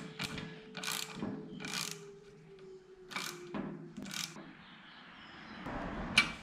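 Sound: ratchet tightening a hose barb fitting on a tractor

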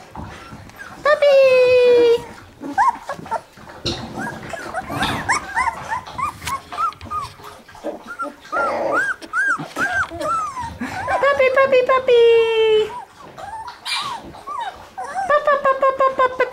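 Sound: puppy whimpering

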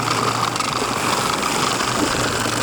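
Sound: old lawn mower small engine running

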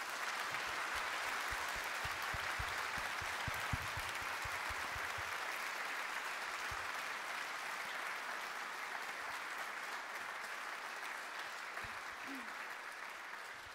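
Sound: audience applause at end of a lecture

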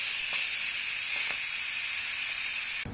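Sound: steam released from a 2-quart pressure cooker

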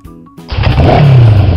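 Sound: motorcycle engine

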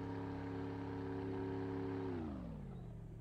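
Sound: boat engine revving as throttle is opened

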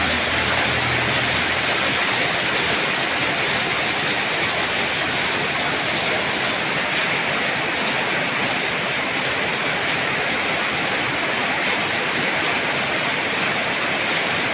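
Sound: afternoon rain falling

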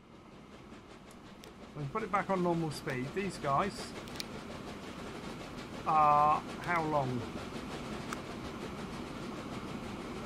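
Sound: trains running on rails in video game Transport Fever 2

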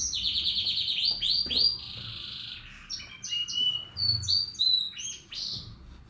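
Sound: hungry baby birds chirping

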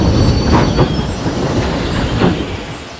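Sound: train shunting

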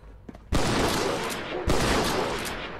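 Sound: gunshot in Fallout 4 video game

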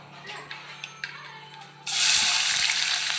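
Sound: tempering cumin and mustard seeds sizzling in oil

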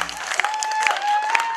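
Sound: audience applause

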